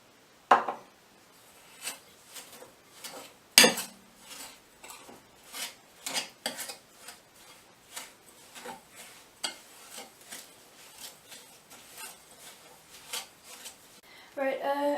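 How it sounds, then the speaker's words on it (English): Butter and caster sugar, 110 grams each, creamed together in a bowl for gluten-free banana bread: a run of steady, rhythmic scraping and knocking strokes of a utensil against the bowl, fairly close, with a louder clatter at the start and end. "Cream that with the sugar"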